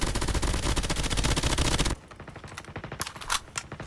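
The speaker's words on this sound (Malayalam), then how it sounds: "ആദ്യം റോബോട്ടിനെ വെടിവെക്ക്" Rapid automatic gunfire from Call of Duty Mobile during a robot escort match, loud sustained bursts filling the first half, then sparser, quieter shots and action sounds.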